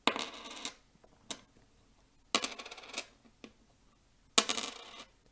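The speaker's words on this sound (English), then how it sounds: "basically all you do is you drop the coins on a hard surface" Copper and zinc 1982 pennies drop one at a time onto a hard surface, several sharp close metallic clinks with short rattling rings between quiet pauses.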